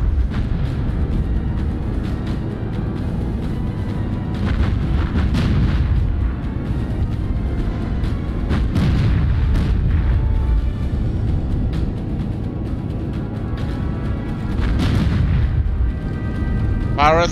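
Naval guns fire at an enemy carrier in Battlestations Pacific, heard as deep, rumbling booms that roll on without a break under a steady battle din, with a few sharper blasts.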